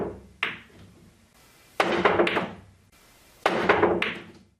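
Billiard jump shots, three in sequence, each a sharp cue strike and thunk followed by the ball clattering and rattling on the table, fairly close with short gaps of room quiet between them.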